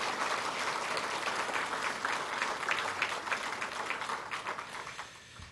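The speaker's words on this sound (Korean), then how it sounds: "우리 세 분 공직자들께도 다시 한번 축하 박수 드리기 부탁드립니다" A crowd at a monthly staff assembly applauds three public officials, a steady wash of clapping that holds for several seconds and thins out at the end, with no one talking over it.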